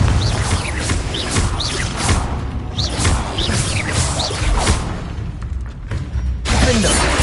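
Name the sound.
Confringo blasting spell exploding in Hogwarts Legacy video game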